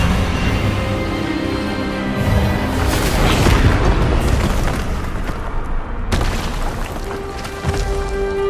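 Magic spell clash in Hogwarts Legacy, a loud, dense rumbling blast with a rising whoosh and sustained tonal hum, swelling midway and fading into a lingering resonant tail.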